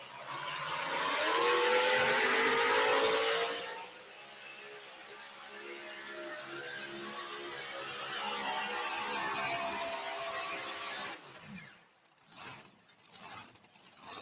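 Pulling tractor at a tractor pull competition, its engine roaring loud and broadband for several seconds, then settling into a steady throbbing drone before cutting to sputtering bursts near the end.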